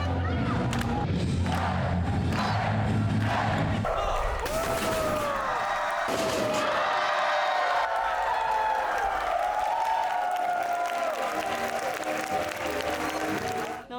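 An audience cheers and applauds at a taekwondo student performance during a peace festival on Tsushima, giving a loud, continuous crowd roar with shouts and slams, while a voice and rising tones sound over the noise.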